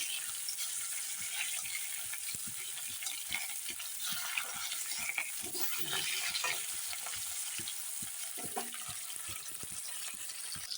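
Pieces of rohu fish fry in hot oil in a pan, a steady close crackling sizzle with scattered sharp pops and spits throughout, no talking over it.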